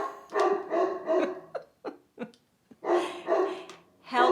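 A pet dog barks repeatedly and fairly close, in a cluster of full barks, then a few short yips, then another run of loud barks, with no one talking over it.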